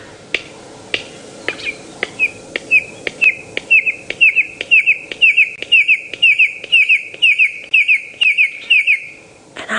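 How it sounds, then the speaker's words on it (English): Sharp, rapid bill clicks repeat in a quickening series, joined by a bird's repeated chirping calls; loud and close. "that sort of clicking noise that comes from the throat, as well as, of course, that sort of, well, the main call"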